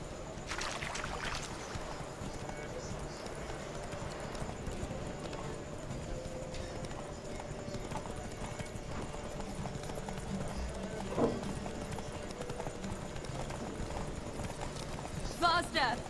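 Roach, a horse in The Witcher 3, gallops in a steady, rhythmic clip-clop of hooves that runs throughout at moderate loudness, with occasional louder hoof hits and a faint background hum.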